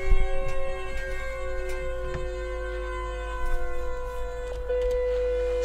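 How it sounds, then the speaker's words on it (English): A loud, wailing siren drones in a Sirenhead horror video game, sustained mechanical tones holding and shifting pitch over a deep rumble, with a few faint knocks underneath. "But a siren sound."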